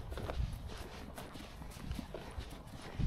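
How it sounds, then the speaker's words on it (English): Horses in a field with soft hoof clops and shuffling at a distance, faint and intermittent over low outdoor noise, with no clear whinny standing out. "can you hear the horses? Yeah, they're whinnying."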